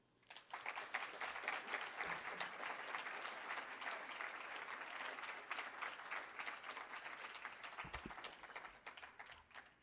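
An audience claps warmly in an indoor venue to welcome author Patricia Hampl at Aquinas College, steady and dense applause sustained for nearly ten seconds before tapering off at the end.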